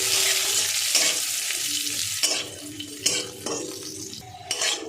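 Washed cashews frying in hot ghee in a pan over medium heat, a close, steady sizzle with metal utensil scrapes and clinks, the frying noise dense at first then broken by sharper stirring knocks.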